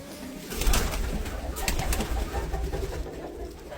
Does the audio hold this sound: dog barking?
no